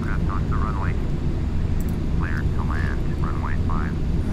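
Boeing 767 airliner landing on a short runway in the X-Plane flight simulator, a steady broadband engine roar that holds loud throughout, with someone talking over it in bursts.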